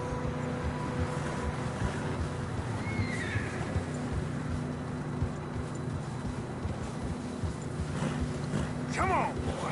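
Horses trudge through deep fresh snow on a narrow mountain trail in Red Dead Redemption 2, with a steady muffled crunch of hooves, a low rumble underneath and a near neigh late on.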